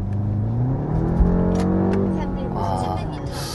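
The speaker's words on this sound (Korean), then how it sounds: "6기통에서 우리가 들을 수 있었던 그런 배기음이 좀 귓전에 들어오죠" A BMW 5 Series with a 190 hp engine in sport mode, its Iconic Sound feature switched on, lets out a rising exhaust note under acceleration, heard from inside the cabin.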